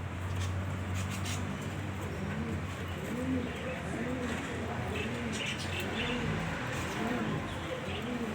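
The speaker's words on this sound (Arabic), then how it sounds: "دكر برضو ابن حمام وشه كويس." Pigeons coo in repeated low rounded calls at close range, a steady layered cooing from a pair in a breeder's loft, with a few faint chirps and soft background noise throughout.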